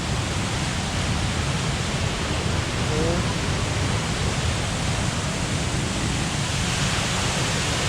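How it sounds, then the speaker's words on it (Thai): Strong water pours steadily down the first tier of Phu Soi Dao waterfall in Thailand, a dense, unbroken roar of rushing flow that stays even in level throughout. "นี่นะครับน้ำตกภูสอยดาวนะครับ สวยมากเลยน้ำแรงมากนะครับ"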